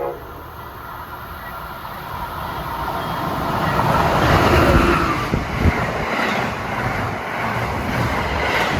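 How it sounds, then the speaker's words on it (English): Amtrak's Silver Meteor passenger train bound from New York to Miami rolls past, a steady broad rumble and rushing roar that swells toward the middle and then holds, heard outdoors without speech. "That was the Silver Meteor en route from New York to Miami."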